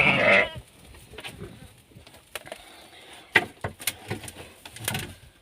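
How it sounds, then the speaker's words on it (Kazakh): A Hissar ewe gives a loud, close bleat at the start, followed by quieter scattered bleats and shuffling from sheep and newborn lambs in a pen. "Қоздаған қойлар."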